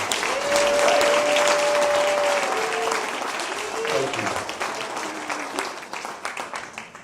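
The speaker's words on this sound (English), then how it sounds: "give yourselves a round of applause for joining us here tonight" Audience applause at an evening hall-of-fame induction ceremony, loud and sustained at first, then thinning into scattered claps as someone speaks over it.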